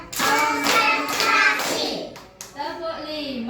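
Kindergarten children clap in quick bursts during a counting clap game, the claps mixed with loud children's voices and adult speech close by.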